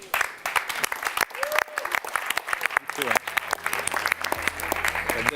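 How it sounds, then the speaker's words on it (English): Applause for graduates on stage at a graduation ceremony held at the Olympic Museum, crisp scattered claps from a nearby audience mixed with voices and a low hum toward the end. "We would like to call all the graduates to join us on stage for a last big round of applause."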